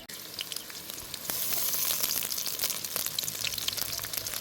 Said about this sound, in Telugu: కరివేపాకు కొద్దిగా వేస్తున్నా.